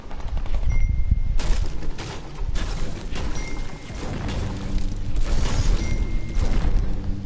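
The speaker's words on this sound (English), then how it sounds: "he's shooting me for the minigun!" Rapid minigun fire in a multiplayer shooter game, dense sustained bursts of gunfire broken by a short lull midway, loud and continuous.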